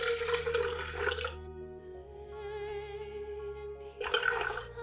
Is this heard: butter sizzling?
no